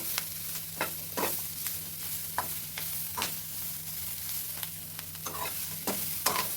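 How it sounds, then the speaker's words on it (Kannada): Broccoli fries in butter in a pan, close up. Repeated scraping strokes of stirring break over a soft, steady sizzle, and no one speaks. "ಬ್ರೊಕೊಲಿ ಕೂಡ ನೀಟಾಗಿ ಇದೇ ಬಟರಲ್ಲಿ ಫ್ರೈ ಆಗಬೇಕು"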